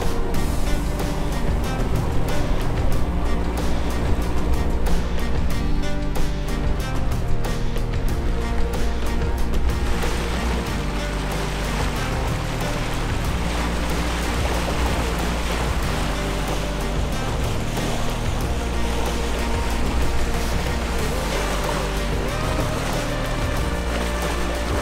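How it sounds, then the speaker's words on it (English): A sailboat motor-sails on the open ocean in light wind, its engine droning steadily under the continuous wash of waves and water rushing along the hull, with no voices heard. "So we're motor sailing."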